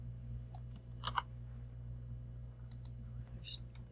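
Sparse, light keyboard clicks entering a spreadsheet formula, a few scattered taps and a brief cluster of keystrokes over a low steady hum, faint and close.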